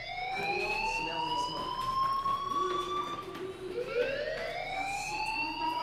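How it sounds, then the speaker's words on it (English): Fire alarm ringing in the video game Life Is Strange, a loud, continuous wailing tone that sweeps slowly upward, drops and rises again over a busy background. "Do you hear that fire alarm? That means you should be outside."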